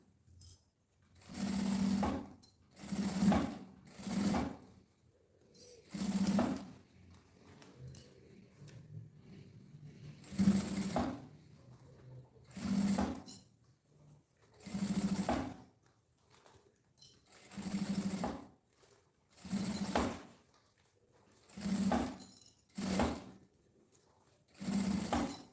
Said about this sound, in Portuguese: Agora a gente vem e costura com o pé de máquina.